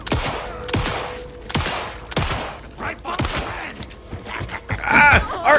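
Gunfire in the survival horror game Alan Wake 2, a series of sharp pistol-like shots spaced roughly half a second apart, loud and close, with a faint voice and scuffling noises near the end.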